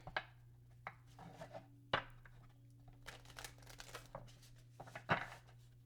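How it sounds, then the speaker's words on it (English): A deck of Lenormand cards is shuffled gently by hand to avoid bending them, producing quiet, scattered slides, soft slaps and papery crinkles over a low steady hum. "I don't want to bend these cards too much, so I'm going to shuffle them this way."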